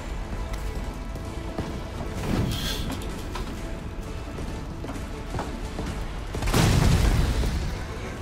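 A tank explodes in the video game Resident Evil 3 (2020): a heavy, broadband boom bursts up near the end, swelling over a constant rumbling, crackling background of fire and debris.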